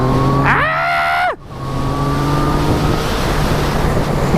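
A Yamaha FZ-09 / MT-09 900 motorcycle engine revs up hard in throttle mode B, its rising harmonic pitch climbing steeply before a brief gear-change dip, then settling into a steady loud drone with heavy wind rush on an open road.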